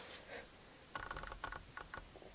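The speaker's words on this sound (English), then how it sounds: "That's the sound of the lens." Quiet bursts of rapid mechanical clicking and whirring from a small autofocus motor, arriving in short, uneven spurts close by.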